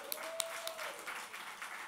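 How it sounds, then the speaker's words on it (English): An audience applauds steadily and fairly loudly at a round of a competition, with a few sharper claps standing out and a faint tone sliding under the clapping. "Let's give a big round of applause for the first round."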